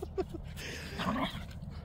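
A puppy whines and yips in short, high-pitched bursts, close by, with some soft background noise and faint voices.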